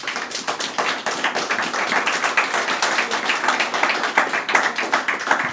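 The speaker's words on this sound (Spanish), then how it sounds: "Dele un aplauso al Señor" A church congregation claps in a fast, rhythmic unison beat, loud and close, sustained throughout with little voice over it.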